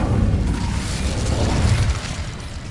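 Incendio fire spell cast in the Hogwarts Legacy video game, a loud whooshing burst of flame with booming low rumble, sustained throughout and fading slightly at the end, with no talk.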